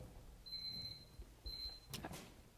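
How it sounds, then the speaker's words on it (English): A debate timer on stage at a New Jersey legislative election debate goes off with two short electronic beeps, followed by a faint clatter, in a quiet hall. "I see we have a real timer when we do this. With sound."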